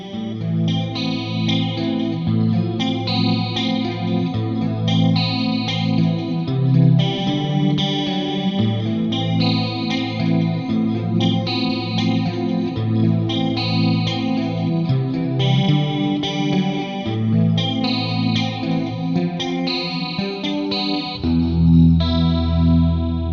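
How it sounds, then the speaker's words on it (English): Played on guitar, a shimmering chorus-laden clean guitar layered over a distorted rhythm guitar riff, steady and loud, repeating chord patterns with no talking. "the clean guitar comes back for some cool layering behind the distorted rhythm part"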